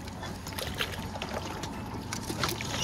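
A kayak paddles through a lake choked with debris, with soft splashes and water swishing close by over a faint background hum.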